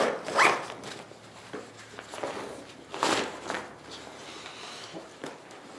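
The zipper on the underside of a backpack's top compartment is pulled in a few quick, close rasping strokes, with fabric rustling and handling noise in between and no talking.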